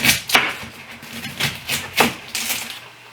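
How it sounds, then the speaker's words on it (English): A kitchen knife cuts through a medium-sized onion on a board, six or seven crisp chopping strikes at a loose steady pace, close and moderately loud, with no voices. "But for right now, I want to get my onion cut up."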